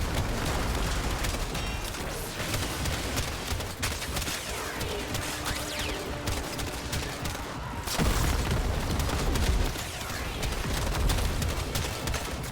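Rapid weapon gunfire in the game Warframe, dense bursts of shots crackling almost nonstop with heavy booming impacts, loud and close, and a sharper surge of firing partway through.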